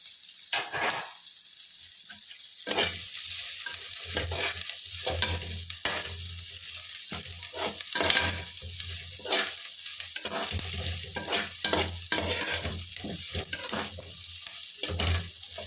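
Green chillies and curry leaves fry in hot oil in a pan, a steady sizzle broken by repeated scraping stirs and occasional clinks of a spoon against metal, with no talking.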